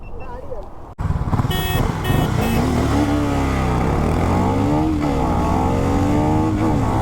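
A KTM Duke 250 and a Harley-Davidson X440 launch side by side in a drag race, engines roaring loudly and revving upward after a sharp start, with rising harmonic whine as they accelerate.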